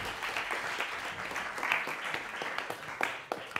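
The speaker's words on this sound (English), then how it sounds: "Big round of applause, please." A room of attendees at a sanitation conference meeting in Stockholm gives steady, fairly soft applause, continuous clapping with a few sharper individual claps near the end.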